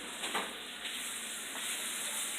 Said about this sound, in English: I'm going to drop my meat right here and nice sizzle